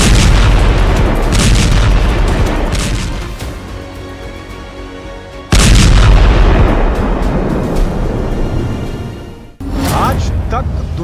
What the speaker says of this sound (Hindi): अब देखिए न्यूक्लियर बम की वो विनाश लीला जिससे दुनिया कांपती है।